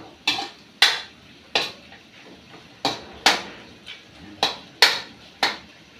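Spoon or ladle clanking against a cooking pot while bamboo shoot adobo is stirred, a string of about ten sharp metallic knocks at an uneven, steady pace, close and alone with no talk.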